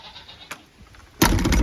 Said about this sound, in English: And now we'll come and let the goats out.